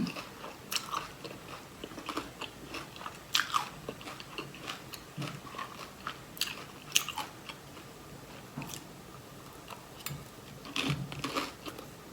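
Crisp bites and chewing of fried chive dumplings, a steady run of close, crunchy bite sounds spread across the whole stretch with no talking.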